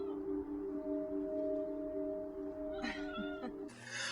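A film cat gives a couple of short, fairly close meows late on, following a long steady tonal hum in an otherwise quiet scene.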